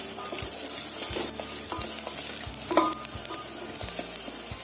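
Onions frying over a medium flame, with a constant close sizzle and occasional soft stirring clinks and scrapes.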